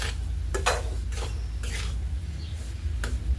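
Adadiya mixture roasting in a pan is stirred continuously, with repeated scraping strokes and soft clinks against the pan over a faint low sizzle.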